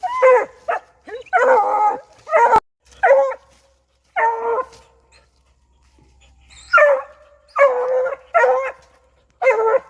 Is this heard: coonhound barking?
yes